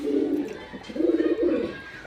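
Pigeons offered at a pigeon sale coo in low, rolling phrases, two soft murmuring calls close by with no talk over them.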